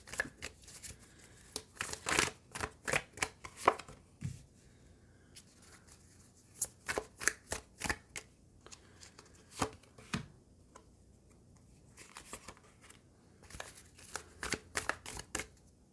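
Tarot cards shuffled by hand in repeated bursts of crisp riffling and slapping, with short pauses between rounds, close and fairly quiet, no talking.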